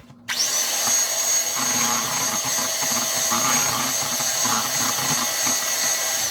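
Swiss roll batter gets a final mix with an electric mixer, which starts abruptly and holds a loud, steady high whine with slight wobbles as the beaters move through the bowl.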